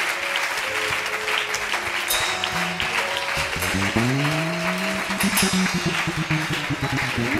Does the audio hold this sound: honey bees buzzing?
no